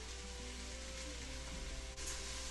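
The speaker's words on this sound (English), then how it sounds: "my mushrooms are cooking nicely" Mushrooms cook in a pan for an Italian soup with a soft, steady sizzle. The hiss is faint and even, with a slight scrape near the end and no talking.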